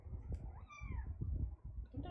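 A house cat gives a short, rising-and-falling meow up close, with low rumbling room noise and thumps around it.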